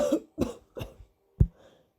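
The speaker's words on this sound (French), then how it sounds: "Une quinte de toux l'interrompit." Four harsh coughs in quick succession, close and loud, the last one sharp and deep after a short pause, performed as a coughing fit in an audiobook reading.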